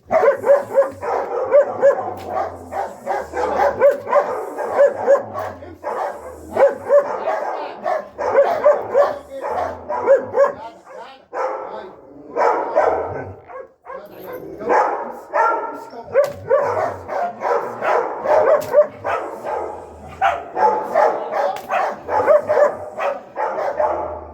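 A dog barks repeatedly in close, loud volleys with brief pauses, mixed with yips and whimpers, over roughly twenty-four seconds with little else heard.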